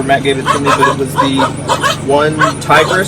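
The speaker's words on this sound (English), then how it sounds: "Excuse the dogs" Dogs barking and yipping in short repeated bursts nearby, mixed under a man's steady close-up talking during an outdoor gear chat.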